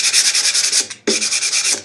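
Sandpaper scuffs across Z-Poxy pore fill on guitar wood in steady rhythmic back-and-forth strokes, close and loud, with one brief pause before the rubbing resumes.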